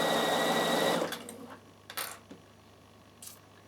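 Bernina sewing machine fitted with a new sharp size 80 needle stitching a linen pillowcase, a steady close whir for about a second, then stops, followed by a few faint clicks and handling noises.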